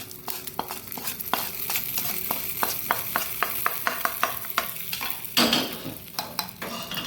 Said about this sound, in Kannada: ಸಾಸಿವೆ ಹೊಡೆದ ಕೂಡಲೇ ಆಫ್ ಮಾಡ್ಕೊಳ್ಳೋದು, ಅದಕ್ಕೆ ಶಿಫ್ಟ್ ಮಾಡ್ಕೊಳ್ಳೋದು